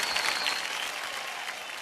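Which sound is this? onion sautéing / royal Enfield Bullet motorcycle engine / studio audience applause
studio audience applause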